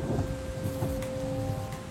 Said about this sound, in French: une pluie, je dirais comme on en connaît beaucoup chez nous